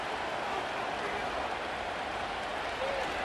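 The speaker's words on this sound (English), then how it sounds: "The crowd cranking it up another notch before third and long." Stadium crowd noise from Madden NFL 25, Tampa Bay Buccaneers against the New York Giants, building before a third and long: a dense, steady roar of cheering that holds evenly throughout with no clear voices on top.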